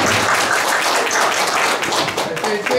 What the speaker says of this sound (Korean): 박수 치고